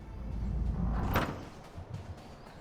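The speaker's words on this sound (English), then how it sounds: "and then we go through our first door" A door in the video game Death's Door slides open with a single sharp whoosh partway through, set over a low rumbling ambient bed.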